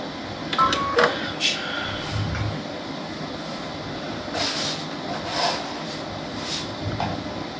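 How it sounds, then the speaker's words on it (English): A sewing machine stitches a seam on a fuzzy hair towel, giving a steady mechanical whir with a few louder bursts and brief pauses as the fabric runs through. "I'm just going to sew a seam down."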